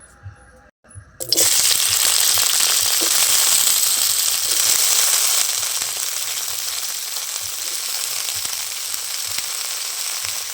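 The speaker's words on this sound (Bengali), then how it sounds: "ওই তেলে এবার আমি ফুলকপিটা ভেজে নেব তার জন্য কড়াতে ফুলকপিটা দিয়ে দিচ্ছি" Cauliflower florets drop into hot oil in a kadai, bursting into a loud, steady sizzle and crackle of frying that keeps going after a brief quiet start.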